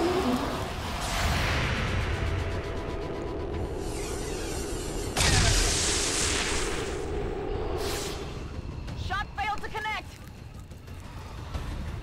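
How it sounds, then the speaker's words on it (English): A sudden, loud explosive burst from the video game XCOM 2 cuts through busy in-game combat noise, with a short rumbling tail before the battle sounds continue. "There's gonna be another explosion in a second and summon a bunch more."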